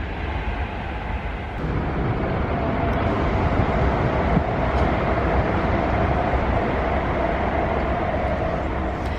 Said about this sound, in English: Train line really close by.